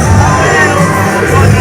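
A wrestling crowd at a live ring event chanting and yelling, a loud, dense wall of many voices close by that holds steady throughout.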